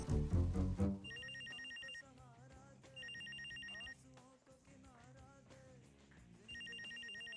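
A telephone rings in repeated electronic trills, three separate bursts separated by pauses, over soft background music and ambient noise, with no talk.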